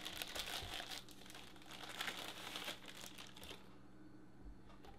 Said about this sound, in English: Now, I'm going to rip open this plastic piece.